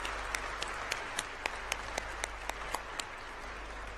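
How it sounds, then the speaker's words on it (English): An audience applauds award winners at the closing plenary of the Global Entrepreneurship Summit 2017, a dense, steady wash of clapping from a large crowd with a few sharper individual claps standing out. "So let's give all of them a round of applause."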